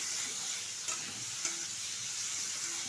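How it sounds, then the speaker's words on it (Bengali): Bitter gourd, eggplant and bammi greens fry in a pan with a continuous soft sizzle and a few light stirring scrapes. "ভালোভাবে কিন্তু এটা ভেজে দিতে হবে"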